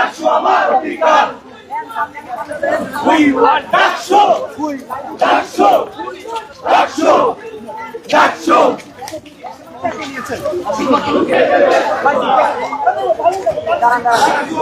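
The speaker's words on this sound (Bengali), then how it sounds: "তাৎক্ষণিক প্রতিক্রিয়া বিক্ষোভ মিছিল ছাত্র দলের" A student party protest march at Dhaka University after the DUCSU election was suspended, a loud, close crowd chanting slogans in rhythmic call-and-response bursts that swell into a continuous roar of massed voices.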